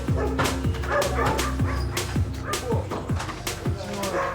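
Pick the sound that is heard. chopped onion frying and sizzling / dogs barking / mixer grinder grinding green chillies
dogs barking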